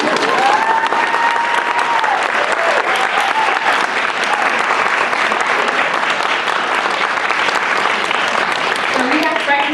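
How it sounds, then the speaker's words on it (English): Audience applause at a multicultural performance, dense and sustained clapping that stays loud the whole time, with a voice briefly audible over it. "You may clap."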